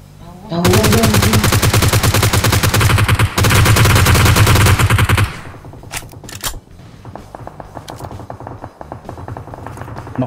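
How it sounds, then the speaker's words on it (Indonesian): Rapid automatic gunfire from a PUBG Mobile match fills the first five seconds loudly and continuously, then gives way to scattered quieter shots and game sounds, with players talking over it. "Lu tembak dari mana, Bi?"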